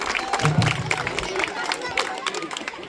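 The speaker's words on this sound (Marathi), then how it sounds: "एकदा जोरदार टाळ्या वाजवा." Villagers at a primary school fair clap and cheer after a ribbon-cutting, a brief burst of applause and crowd voices with chatter around it, heard from nearby.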